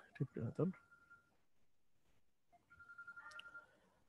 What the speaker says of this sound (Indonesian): Sorry ya, sebentar ada telepon masuk.